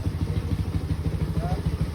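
A freshly tuned motorcycle engine idles close by with a fast, even low-pitched chugging pulse, steady and moderately loud, a faint voice briefly audible under it.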